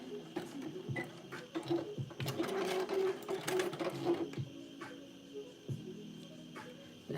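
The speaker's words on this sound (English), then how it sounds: "Stitch that, make sure that baby is stitched" A sewing machine stitches elastic in steady runs. The longest, loudest burst of rapid needle chatter lasts about two seconds, with shorter stop-start bursts before and after.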